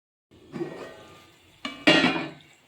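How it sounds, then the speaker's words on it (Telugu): A lid is set onto a cooking pot of Bengali-style potato and capsicum curry, with a short clank followed by a louder clattering settle, close and alone. "మూత పెట్టుకుని ఉంచుతామండి"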